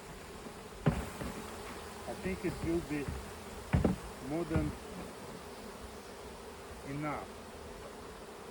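A swarm of honeybees hums as a constant dense buzz throughout, with someone talking briefly over it and a few sharp knocks of handling close by.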